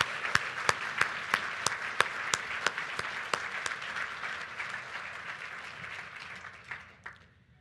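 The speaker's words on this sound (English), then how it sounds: "just join me in one more round of applause for all of our Dean's recipients" Audience applause for award recipients at a university distinguished achievement awards event, with regular sharp claps standing out at first, then a broad wash of clapping that gradually thins and fades out.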